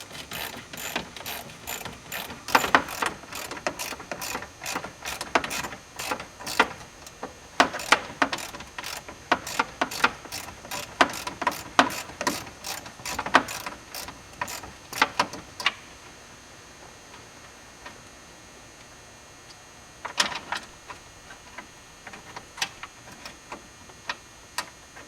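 Rapid ratcheting clicks from a hand wrench loosening bolts on the bottom piece of a Chevy S10 lock cylinder and starter switch assembly, dense close bursts for about fifteen seconds, then a quiet pause and a shorter burst.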